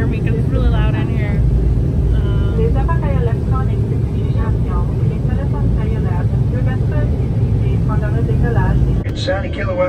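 Loud, steady roar inside an airplane cabin waiting for takeoff, a constant broadband engine and ventilation rumble filling the whole stretch, with a voice talking over it and a brief shift near the end.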